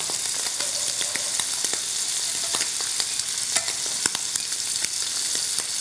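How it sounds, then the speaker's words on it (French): Scallops searing in a pan on an electric hob, a loud, dense sizzle with frequent tiny spitting crackles throughout, close and steady with no voices. "Il faut vraiment faire attention hein, quand même à la cuisson de la noix de Saint-Jacques"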